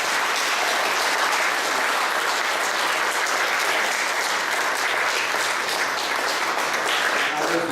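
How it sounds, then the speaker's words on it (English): An audience at an Eagle Scout court of honor applauds steadily, a dense, even clatter of many hands clapping that holds at full strength for the whole span without pausing. "we want to give you a round of applause for joining."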